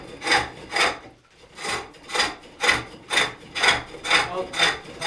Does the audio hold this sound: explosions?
no